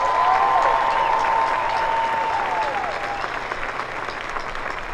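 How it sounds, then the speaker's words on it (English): A graduating class at a high school ceremony receives sustained applause from a large crowd, loud at first and gradually tapering over several seconds, with a faint tone ringing through. "Let's give a huge round of applause for the class of 2022."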